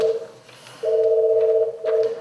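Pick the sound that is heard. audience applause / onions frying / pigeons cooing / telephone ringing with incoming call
telephone ringing with incoming call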